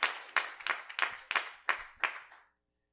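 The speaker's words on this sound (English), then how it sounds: "Clap your hands to God as you are seated all across Norwalk, California" A church congregation claps hands in Norwalk, California, in seven sharp, fairly even claps spread over about two and a half seconds, close and clear, with no talking.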